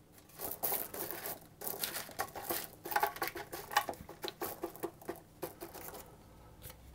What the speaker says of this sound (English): I'm going to pour in my ceramic baking beans